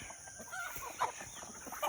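Free-range chickens, including Black Australorps and Bantams, cluck and murmur softly in the background, a couple of brief louder calls standing out against a faint hum.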